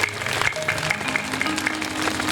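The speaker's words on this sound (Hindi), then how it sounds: "ताली बजाएंगे।" A Hindi church congregation claps together at a Christmas sermon, a dense, steady burst of applause lasting a couple of seconds, with a faint voice beneath.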